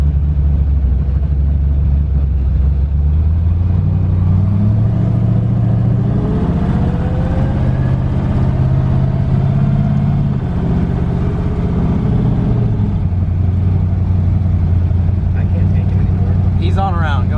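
LS-swapped twin-turbo Fox Body engine rumbling steadily at a deep, truck-like idle with occasional revs, loud and close throughout.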